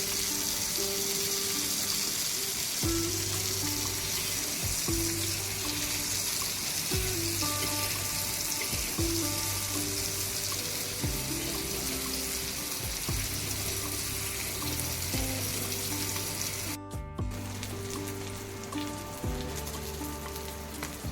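Bombil (Bombay duck) fish frying crisp in a pan, a steady loud sizzle and spatter running throughout, with low clattering tones from the pan beneath.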